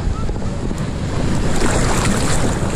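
Ocean surf rolling and breaking close by in cold open sea water, a continuous wash of churning water buffeted by heavy wind noise on the microphone.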